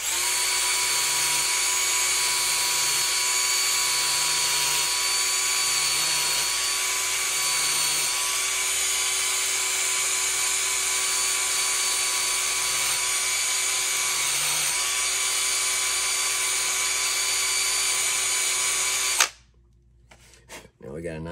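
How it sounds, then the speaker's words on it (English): A power drill bevels an edge on an airsoft rifle part, running steadily at full speed with a high whine for a long stretch, its pitch dipping slightly now and then, before stopping abruptly. "Turn the drill wide open. And we're going to go."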